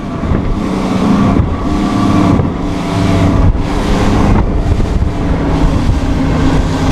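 A fishing boat runs fast across open water at about 32 mph, its engine droning steadily beneath loud rushing wind and hull spray, with no talk.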